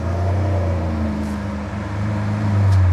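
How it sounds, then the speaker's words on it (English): A modified Lamborghini Aventador's exhaust idles loud and close in a deep, steady rumble that swells slightly near the end. "We've heard a lot of modified Lamborghini Aventador exhausts across my channels over the year."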